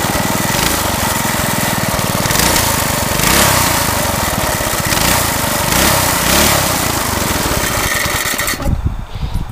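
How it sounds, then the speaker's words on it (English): A Briggs & Stratton lawnmower engine running on about 90% turpentine fuel revs loudly and steadily with a rough, buzzing firing rhythm, rising and falling in pitch before cutting off abruptly near the end. "that's a Briggs & Stratton lawnmower engine"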